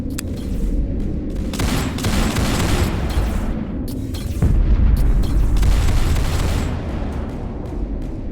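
A dropship firing in the video game Artificial Extinction 2, a sustained loud barrage of booming, rumbling blasts and dense rapid fire that swells partway through, no talk.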